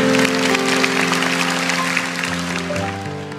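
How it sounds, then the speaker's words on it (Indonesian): A church congregation applauds during a sermon, a broad wash of clapping that fades slightly, heard over loud sustained keyboard or organ chords. "Kasih tepuk tangan untuk Tuhan kalau Anda setuju."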